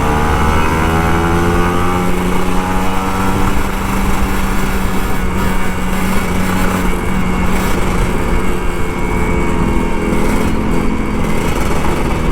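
A Kawasaki Ninja RR 150 motorcycle engine drones loudly and steadily up close, its pitch rising and holding as the throttle is worked, with no other sounds.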